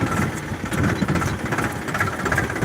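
A tractor engine chugs steadily up close on a farm, loaded with a cotton haul, a rough, knocking rumble that runs without pause.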